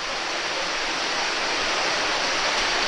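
A waterfall pours into a small tunnel, a steady, dense rush of falling water that fills the space evenly from start to finish with no pauses or voices.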